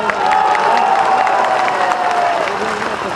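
A large outdoor crowd claps and cheers in thanks to the irrigation minister at a chief minister's public event in Katihar, loud continuous applause with voices and a rising-falling shout mixed in.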